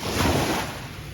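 Gentle surf from calm, flat ocean at Patong Beach, Phuket, washing steadily with a soft broadband wash and some wind noise, fading slightly toward the end.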